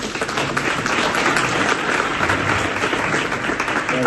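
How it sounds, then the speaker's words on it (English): Steady, dense applause from a math summit audience fills the whole stretch, loud and continuous with no voices standing out. "a big round of applause"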